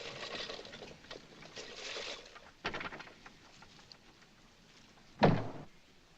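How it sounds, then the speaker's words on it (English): A door is shut in a 1946 film scene, with a dull thud standing out late in a quiet room ambience and softer knocks and shuffles before it. "Shut the door."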